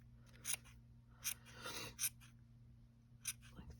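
Scissors snip through acrylic yarn while a gnome's beard is trimmed into shape, giving several quiet, crisp cuts in an irregular rhythm, close by and with no voice over them.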